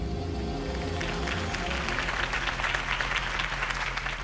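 Crowd applause for Harvey Dent's campaign speech in the video game Batman: The Telltale Series, a fairly quiet, steady clapping from a gathered audience that swells in as low musical tones fade beneath it.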